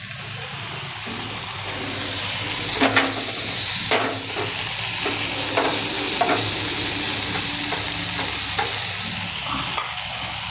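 Bread pieces roast in homemade butter in a pan for garlic bread pizza, a steady sizzle running throughout with occasional sharp stirring scrapes, close and fairly loud with no voices.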